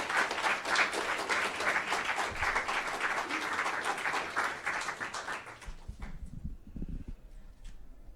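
An audience applauds warmly to welcome Roxanne Dunbar-Ortiz, dense sustained clapping that fades out after several seconds, leaving a few low murmurs.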